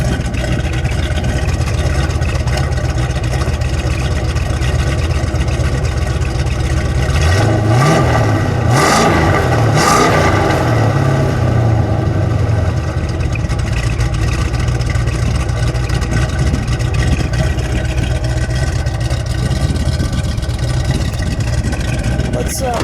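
The 426 Hemi V8 of a 1971 Dodge Charger R/T roars through a sharp rev climbing and falling over a steady rumbling idle, loud and close, while people talk nearby.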